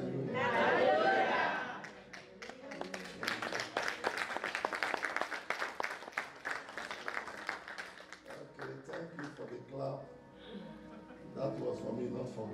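A church congregation clapping in a dense, fast patter that fills the middle stretch, with a voice talking before and after and some crowd chatter.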